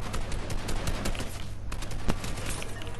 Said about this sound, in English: Where are there firing shots?